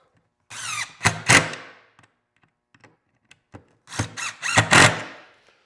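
Self-drilling screws are driven into a cabinet frame with a power drill in two separate bursts, each a short whirring squeal that stops and restarts, with quiet handling clicks between.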